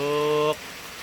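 Rain falls steadily at a country garden house, a soft, even patter-hiss heard throughout; during the first half a sustained, droning tonal sound sits on top of it before cutting off.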